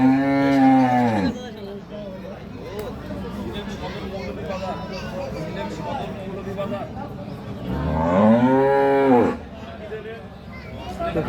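A dairy cow and her heifer calf at the Aftabganj cattle market give two loud, drawn-out moos, one at the start and another near the end, with crowd chatter between them.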